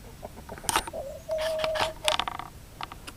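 Rooster near a hen house giving a few short clucks and a longer drawn-out call, faint and close, with outdoor background noise.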